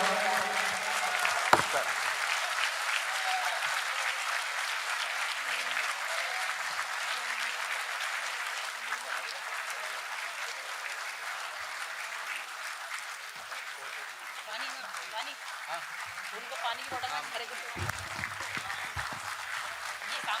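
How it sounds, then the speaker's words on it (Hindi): Sustained applause from a large mushaira poetry audience, dense and steady for the full length, with scattered claps and brief voices emerging near the end. "देखिए, तालियों की गूंज कम नहीं होनी चाहिए।"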